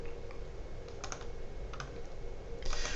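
Light keyboard typing on a computer while entering MATLAB commands: a few quick key clicks in short clusters over a steady background hiss.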